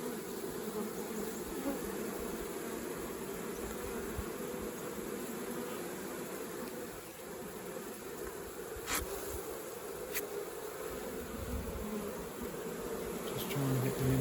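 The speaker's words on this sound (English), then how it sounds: "You can see there bees fanning at the entrance." A steady, dense hum of many honey bees fanning at a hive entrance close by, unbroken throughout, with a few brief sharper clicks near the end.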